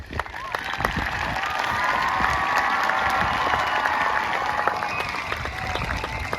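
A school crowd at a Dover School District Veterans Day celebration breaks into applause with scattered cheers and children's shouts, sustained and fairly loud for several seconds.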